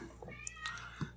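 A cat gives a short, close meow, quiet and alone, over faint background hum.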